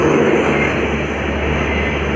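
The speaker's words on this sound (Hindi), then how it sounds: "एक बार फिर WDP4D इसका लोकोमोटिव।" WDP4D diesel locomotive hauling the Kisan Express, a loud, steady droning rumble with a low engine hum, heard continuously and close throughout.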